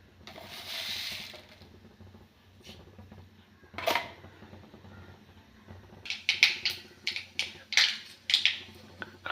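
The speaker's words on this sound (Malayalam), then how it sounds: "കടുക് പൊട്ടുമ്പോൾ വറ്റൽമുളക് ഇടുക." Mustard seeds crackle and pop in hot oil while a Kerala-style koottu curry with breadfruit is being cooked, giving a quick cluster of sharp pops toward the end after a quiet start, with no voices.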